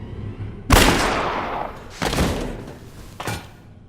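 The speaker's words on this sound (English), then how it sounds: "as she held the gun and pulled the trigger" Gunshots in a Resident Evil game scene: three booming shots, the first loudest with a long reverberant tail, followed by two more spaced about a second apart, no speech over them.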